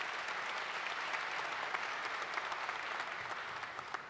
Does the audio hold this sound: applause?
yes